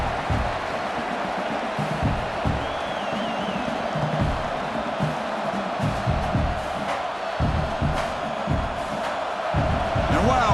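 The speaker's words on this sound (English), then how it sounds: "Listen to this crowd noise. This stadium is vibrating." Broad, continuous roar of a video game college football stadium crowd with scattered shouts and thumps, steady and loud throughout without letting up.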